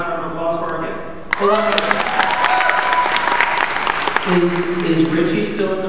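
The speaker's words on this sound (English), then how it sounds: "We're going to do one last round of applause for our guests." A convention crowd at a Power Rangers reunion panel breaks into loud, sustained applause for the guests, joining in with a sharp swell after a brief lull and clapping steadily to the end, with cheers and voices mixed in.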